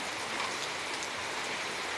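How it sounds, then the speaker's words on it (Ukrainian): Steady rain falls in a garden, a soft even hiss of drops on surfaces, continuous and fairly faint, with no voices. "У нас линув дощ, сипнув град,"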